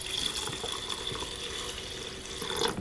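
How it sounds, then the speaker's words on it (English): Water poured steadily over lentils in a Dash mini rice cooker pot, a close continuous splashing and trickling that runs throughout with no talk. "now I'm gonna add just enough water to cover them."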